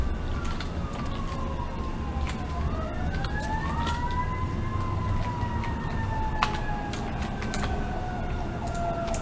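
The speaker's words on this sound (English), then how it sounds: "Sirens, they're gonna get ya." Emergency sirens, likely a fire engine, wail in overlapping rising and falling tones from a street at moderate distance, sustained over a constant background hum of traffic and city noise.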